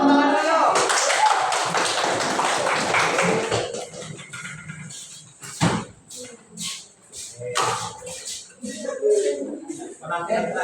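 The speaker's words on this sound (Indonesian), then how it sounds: "Kasih tepuk tangan dulu." An audience at an Indonesian stage event with dance performers claps for a few seconds, loud and dense at first, then fading as a voice speaks over the hall.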